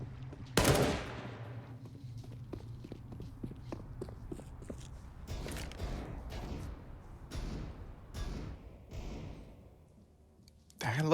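UMP submachine gun fire in a Counter-Strike match on Overpass, with a loud sharp shot at the start, then scattered quicker bursts and footsteps under a caster's steady commentary, ending with another loud report.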